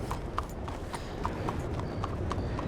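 Horse hooves in Red Dead Redemption 2 clip-clop steadily at a trot, a loud, regular rhythm of sharp hoofbeats over a dense rumbling background.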